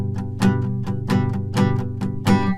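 Guitar strummed with a normal medium pick, steady rhythmic strokes about every half second, bright full chords ringing continuously with crisp pick attacks, played alone up close.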